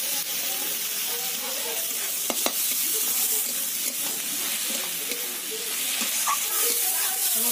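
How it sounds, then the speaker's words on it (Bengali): Onion fried until browned sizzles steadily in a pan as garlic paste is stirred in for a chicken curry, a continuous close hiss broken by soft scraping stirs. "রসুন দিয়ে একটু ভাজা ভাজা মতো করে"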